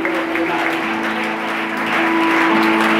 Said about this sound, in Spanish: Siga aplaudiendo.